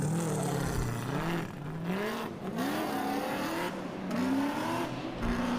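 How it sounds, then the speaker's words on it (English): A Nissan Silvia S15 drift car with a supercharged LS V8 screams through repeated rising and falling revs at a drift championship on an F1 track, heard from a distance as several surges of high-pitched engine wail. "Beautiful Anarchy Drift Team Nissan Silvia S15, again another supercharged LS V8."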